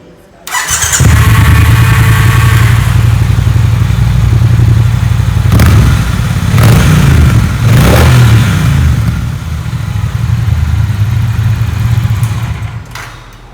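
A Triumph Bonneville motorcycle with its stock chrome exhaust starts up indoors, idles loudly nearby, then revs sharply several times before settling back to a steady rumble.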